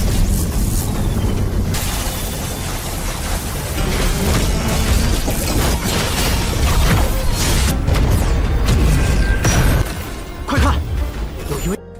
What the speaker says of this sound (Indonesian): ledakan besar pun tercipta